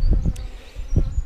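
Honeybees buzz around a hive after a storm, a close, steady hum with a few louder swells as single bees pass near.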